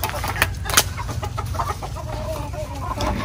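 Native chickens cluck close by on a Philippine backyard farm, a busy overlapping chorus of short clucks with a couple of sharper calls, no talk.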